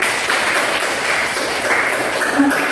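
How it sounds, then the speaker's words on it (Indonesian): Classmates in a teacher-training session clap for a presenting group, a brief, steady wash of applause with faint voices underneath. "marilah kita tepuk tangan buat kelompok 1"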